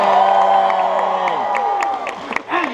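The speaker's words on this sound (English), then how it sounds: "The applause and the cheering in the theater is really what makes the world go round" Theater audience applauding and cheering at an evening show, a dense loud crowd roar with whoops and whistles over a sustained tonal bed that fades slightly toward the end.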